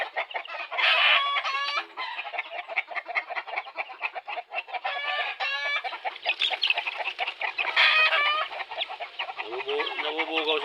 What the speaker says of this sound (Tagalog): Mga sisiyo natin yan